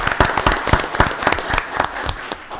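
A round of applause from attendees at a county board of commissioners meeting, with distinct individual claps audible in a loose, uneven rhythm that thins toward the end.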